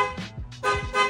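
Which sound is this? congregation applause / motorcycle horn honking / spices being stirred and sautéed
motorcycle horn honking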